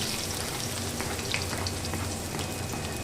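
Chopped onion frying in mustard oil in a wok (kadai): a dense, close crackling sizzle like rain on a surface, steady throughout and cutting off abruptly at the end.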